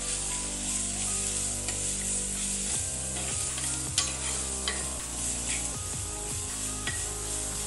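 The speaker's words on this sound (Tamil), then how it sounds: "இதையும் போட்டு கொஞ்சம் நல்லா வதக்கிக்குவோம்." Ground onion and garlic paste sautéing in oil for a sura fish kuzhambu gives off a dense, continuous sizzle with repeated scraping stirs of a spoon in the pan, close and fairly loud, with no talking.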